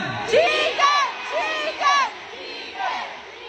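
A crowd at a Jollibee fan meet in the Philippines shouts and cheers in several loud, rising bursts. The voices overlap and fade away toward the end.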